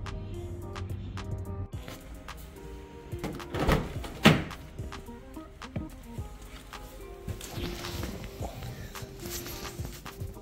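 A front door swings shut with a solid thunk and a lock clicks, followed by footsteps and shuffling movement in a quiet house in Sydney, with no one speaking.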